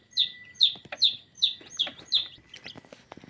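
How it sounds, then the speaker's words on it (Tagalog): A newly hatched chick peeps inside its cage in an incubator setup: six bright, high chirps in a steady rhythm, close and clear, followed by a few softer scattered peeps and light rustling. "Sumisiyap na yung isa doon sa kulungan."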